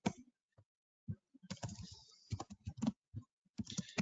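Computer keyboard typing at a desk, with short irregular bursts of key clicks and taps, faint and close, with a longer run of keystrokes in the middle.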